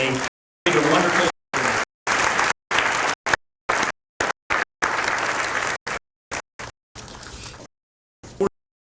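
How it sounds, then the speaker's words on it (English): Audience applause at a dental school commencement ceremony, bursts of crowd clapping broken by repeated gaps of silence, loud and near. "let's give a round of applause"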